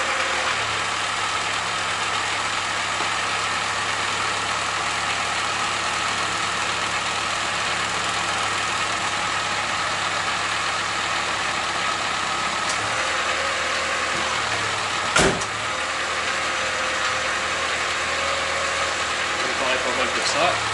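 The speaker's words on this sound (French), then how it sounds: "Je vais démarrer la voiture, je vais la mettre en position très haute" A Citroën BX 14 with the XY engine runs at a steady idle close by for a long stretch, with one sharp knock partway through and no talking over it.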